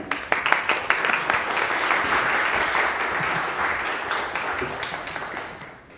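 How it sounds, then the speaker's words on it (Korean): An audience applauds to welcome a young pastor onto the stage at a church event, a dense, steady clapping that starts sharply, holds for several seconds and then tapers off near the end. "여러분 박수로 환영해 주시기 바랍니다"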